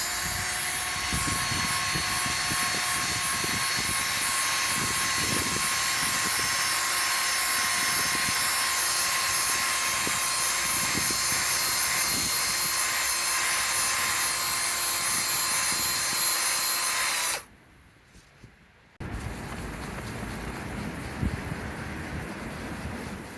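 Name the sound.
drill polishing laptop lid with paint renovator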